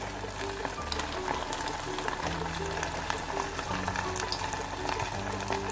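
Raw chicken pieces fried in hot oil for homemade fried chicken, a steady, dense crackling sizzle that runs close and unbroken, with no talk over it.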